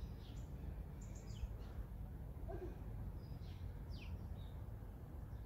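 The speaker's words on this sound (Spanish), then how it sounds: "qué de gorriones hay hoy" Scattered short bird chirps, several quick tweets from sparrows, fairly faint over a steady low background rumble.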